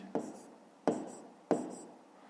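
Three separate pen strokes scratch across paper at a steady pace while a math solution for a fifth-grade exercise is being written out, each one close and brief and followed by a short pause.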